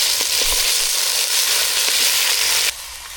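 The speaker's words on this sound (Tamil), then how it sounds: "பிரண்டையை வந்து நல்லா வதக்கி எடுத்துக்கணும்" Pirandai (adamant creeper) sautéing in hot oil in a pan: a loud, continuous crackling sizzle close by that drops off sharply near the end.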